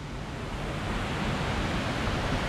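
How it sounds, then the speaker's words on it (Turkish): The Deliklikaya waterfall in the Black Sea region rushes steadily, a dense continuous roar that fills the whole clip with no voices. "Ve bu şelale aşağıya doğru devam ediyor."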